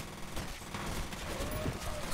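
Rapid, loud gunfire bursts from the first-person shooter game F.E.A.R., a dense fusillade filling the short moment with sustained automatic shots.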